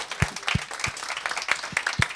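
Audience applause at a sustainability hackathon prize ceremony, a brief patch of clapping with a few prominent close hand claps over a thinner crowd background.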